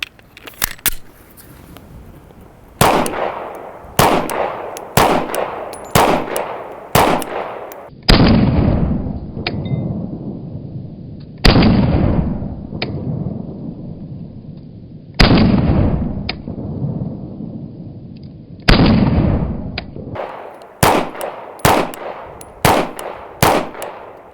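A Canik Prime pistol fires Federal 124 grain hollow point self-defense rounds, loud sharp shots in quick strings and single reports with ringing decay, close and alone without talk.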